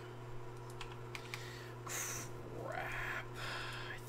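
Scattered computer keyboard keystrokes over a steady electrical hum, with a few louder swooping sounds from a Minecraft game mixed in.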